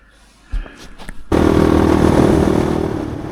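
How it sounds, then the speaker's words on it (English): Honda CRF450X enduro motorcycle engine starts abruptly and settles into a loud, steady close idle rumble, after a few faint clicks and a thump. "there she is, baby, the mighty Honda"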